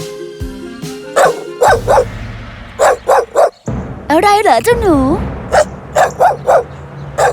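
A dog in a palace garden barks repeatedly at a bush, giving sharp, close barks in uneven bursts and one wavering whine, while a voice speaks between them.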